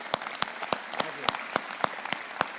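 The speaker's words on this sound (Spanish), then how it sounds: "Le damos un aplauso por..." A slow, steady run of single hand claps, about one every third of a second, sharp and evenly spaced.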